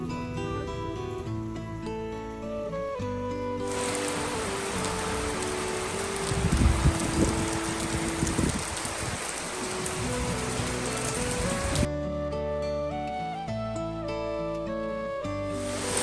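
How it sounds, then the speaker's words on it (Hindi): Rain pours steadily onto a rooftop as a dense, even hiss for about eight seconds, set between stretches of music that continue underneath, with no speech. "फाइनली हो गई है बारिश शुरू"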